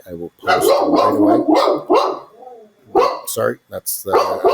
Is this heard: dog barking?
yes